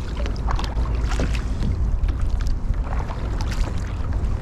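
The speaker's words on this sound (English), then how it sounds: "I'm just gonna paddle a little bit further this way and turn around." Paddle strokes from a fishing kayak out on the water during bass lure fishing, with irregular splashes and dips over a low rumble of wind, close and fairly quiet, and no talking.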